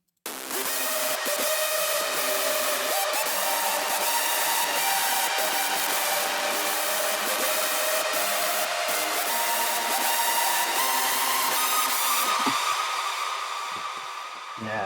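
Hardstyle break built in FL Studio: a dense, bright, distorted synth texture with sustained layered tones and a steady pulsing rhythm, loud and continuous without voices, easing slightly near the end.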